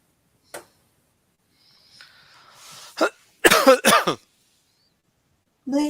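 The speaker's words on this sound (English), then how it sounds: "Well, I was coughing." A person coughs and clears their throat in a quiet room during an English class: a faint throaty rasp, then a short sharp cough followed by a cluster of harsher coughs, close and loud, with one more starting at the end.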